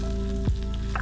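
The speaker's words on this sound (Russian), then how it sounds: "В итоге мы только обжариваем его с двух сторон по разочку." Fennel sizzles briefly in a hot pan, a steady close frying hiss with a short thump midway, no voices.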